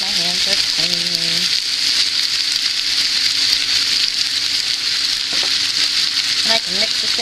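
Vegetables and translucent onions sizzle steadily in a pan as ham is added, a loud continuous frying hiss with brief clunks from handling, a voice speaking over it at moments.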